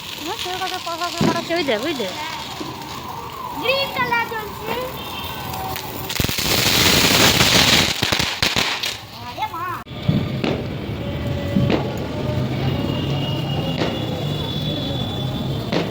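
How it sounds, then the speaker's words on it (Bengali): Snake firecrackers are set off outdoors with crackling bursts and sharp pops, while voices chatter and exclaim throughout. "স্নেক বাজি চলো চলো"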